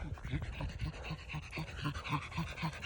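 Dog panting hard after being pushed through strenuous exercise: rapid, steady, rhythmic breaths, close and continuous, with no talk.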